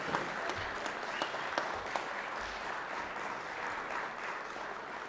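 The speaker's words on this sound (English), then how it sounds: "Let's give him a round of applause." Applause fills a state Senate chamber during a legislative session, a steady wash of clapping at a modest distance with a few sharper individual claps standing out.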